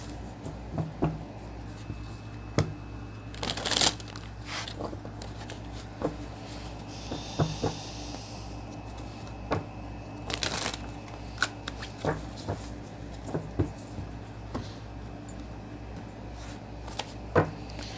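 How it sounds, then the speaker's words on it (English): Tarot cards being shuffled and drawn from a deck, with soft close riffling bursts, sliding and tapping of cards at irregular intervals against a quiet room background. "Let me pull one of these cards here."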